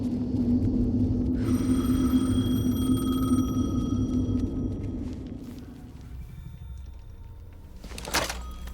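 A telephone rings in the video game Alan Wake 2, with a steady, multi-toned electronic ring laid over a low droning ambience for several seconds before the ringing stops and the background thins out.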